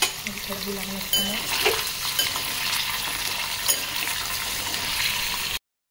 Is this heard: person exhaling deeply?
no